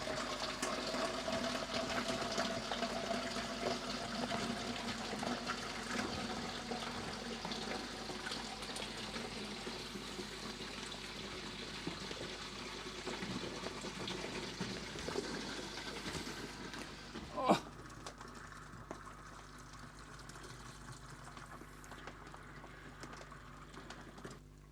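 Fresh wort from an All Inn Sabre Session Ale kit pours in a steady, splashing stream into a fermenter for about seventeen seconds, then cuts off with a brief clunk, leaving only a faint trickle and room tone.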